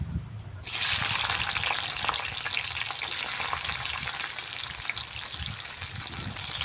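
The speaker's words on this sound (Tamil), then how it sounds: "எண்ணெய் நல்லா காஞ்சிடுச்சு இதில் ஒரு பத்து சின்ன வெங்காயம் போல் நான் சேர்த்துருக்கேன்" About ten small onions frying in hot oil for a Chettinad-style fish curry, a steady loud sizzle that bursts in after a quiet start and holds, close and alone with no talk.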